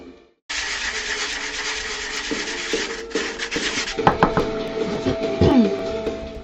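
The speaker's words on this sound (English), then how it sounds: "I need to sand it for a couple of more minutes." Sanding a primed Worbla cosplay piece by hand produces a steady, close, broadband rubbing scrape with a few knocks and handling clatters toward the end. The sound is loud, continuous and alone, with no talk.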